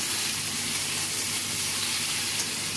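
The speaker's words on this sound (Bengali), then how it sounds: "এবার একটু ভালো করে আলুর সাথে মিক্স করে নেবো, একটু ভাজা ভাজা করে নেবো" Steady broadband sizzling of pumpkin and potatoes frying in a pan, a continuous hiss with no talking.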